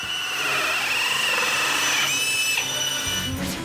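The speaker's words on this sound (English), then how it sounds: "Did you hear the sound of the drill as it made the plug hole?" A loud, continuous high-pitched whine of a power drill boring a plug hole through an acrylic bath, its pitch shifting slightly before winding down near the end.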